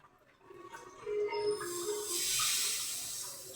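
Bay leaf and two chillies hit hot oil as a tempering for dosa chutney, bursting into a loud, steady sizzling hiss after a quieter start and holding close and strong to the end.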